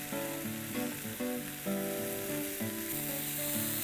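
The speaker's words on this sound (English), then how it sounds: "Give this a good mix and make sure it's a dry filling." A green peas samosa filling with coriander leaves sizzles in a hot pan as it is stirred and mixed, a steady frying crackle with rhythmic scraping pulses, fairly close and with no talk.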